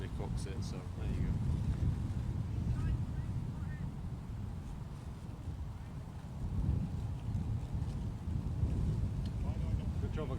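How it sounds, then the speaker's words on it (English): Steady wind buffeting the microphone with low rumbling gusts, swelling and easing throughout, with faint voices in the background, at Manchester Airport. "It's a bit windy now, isn't it?"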